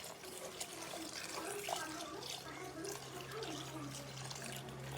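Water runs steadily into a bucket, a soft continuous pour, faint and somewhat distant, with a low hum underneath.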